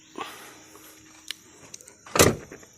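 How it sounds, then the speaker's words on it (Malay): A few faint rattles and clicks, then a louder thud-like clunk near the end, as a Nissan Frontier's door shakes in its frame on a gravel road. "Oke, kereta ini bila lalu jalan kerabel, dia punya pintunya akan bunyi."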